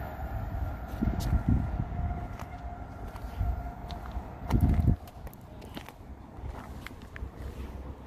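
A Class 222 diesel train passes at Flitwick on the Midland Main Line, its horn giving a steady, sustained tone over the rumble and clatter of the passing train, with heavier bursts of noise as the carriages go by.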